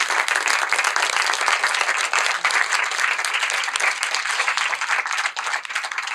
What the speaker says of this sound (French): Je vous propose d'applaudir cette table ronde.